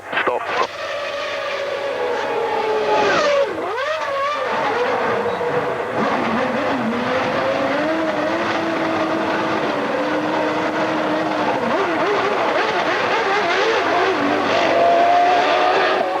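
Formula One Ferraris pass with rising and falling engine whines, one sweeping clearly by early on and others droning steadily behind, all loud and continuous.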